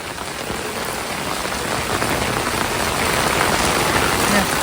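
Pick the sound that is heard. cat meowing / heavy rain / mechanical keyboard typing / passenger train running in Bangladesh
heavy rain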